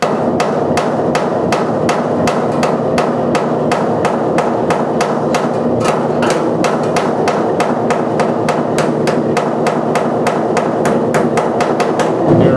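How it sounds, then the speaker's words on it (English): Hammer tapping down high spots on the sheet metal of a 1986 Chevy C-10 truck cab during cab corner and rear window rust repair: a steady run of sharp, loud metallic taps, roughly three per second, continuing without pause and without talk. "Any spots that come out real high, I'm just going to tap those down a little more while continuing to hold pressure here."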